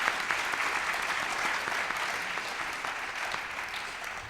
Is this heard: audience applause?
yes